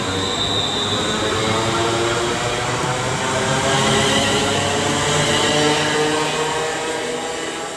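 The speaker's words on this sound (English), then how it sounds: "35241 is now getting ready to depart with the 1745 West Midlands Railway service to Rugeley Trent Valley" A West Midlands Railway class 350 electric unit, 35241, pulls away on the West Coast Main Line at Marston Green, a loud, sustained rumble of wheels and motors with faint squeal, steady then easing slightly at the end.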